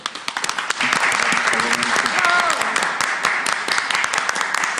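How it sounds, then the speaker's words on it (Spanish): Commission members at a constitutional convention break into applause, a dense, sustained clapping that swells after a few scattered opening claps and holds steady, with faint voices mixed in. "un aplauso en señal de agradecimiento"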